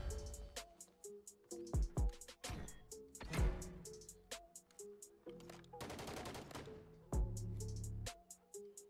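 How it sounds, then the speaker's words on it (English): Bursts of automatic gunfire and single shots from a Call of Duty MW3 multiplayer match, loud sharp cracks in rapid clusters with echoing tails across the whole stretch. "Where's that shooting coming from?"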